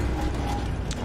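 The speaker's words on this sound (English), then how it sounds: "Well, thanks for the repair." A tank being repaired with a repair tool in a war video game: a brief, close, grinding mechanical ratcheting with gear-like clicks lasting about a second.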